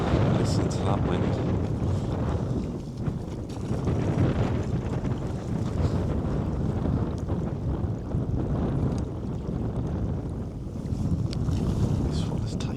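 Strong wind blowing across a pond on a windy evening while fly fishing, a loud continuous roar and buffeting gusts of wind against the microphone, with water sounds beneath and no clear speech.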